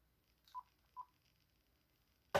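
A telephone sounds during an incoming call with two short, clear electronic beeps about half a second apart in a quiet room, followed by a sharp click at the very end.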